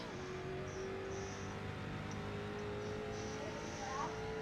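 A race car engine in the iRacing video game drones steadily and moderately loud as it shifts up to fourth gear, with rising whines at the gear changes and no talk.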